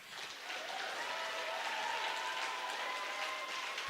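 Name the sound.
graduation audience applause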